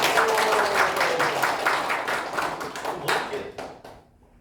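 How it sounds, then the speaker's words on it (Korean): Audience applause at a Korean lecture on Donghak tied to a woodblock print exhibition, welcoming the artist: a dense run of claps over roughly four seconds that fades out near the end. "박수로 맞아주시고"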